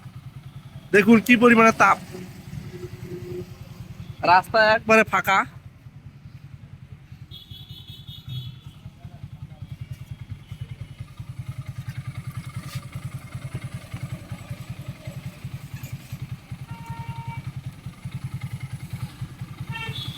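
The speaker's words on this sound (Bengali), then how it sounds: "বরফ দিয়ে বাইকটি স্টার্ট করলাম" A motorcycle engine, cooled with ice after overheating in hot weather, runs at a steady low idle throughout. Someone talks over it in two short bursts near the start.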